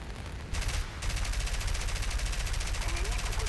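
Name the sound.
gunfire from aircraft guns in War Thunder video game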